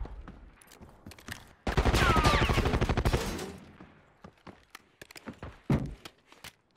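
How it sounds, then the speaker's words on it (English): Rapid automatic gunfire in Rainbow Six Siege, shots punching through metal in a prison setting: a dense, loud burst of fast repeated shots lasting about two seconds, then scattered single shots and impacts fading out. "He's shooting me through the metal."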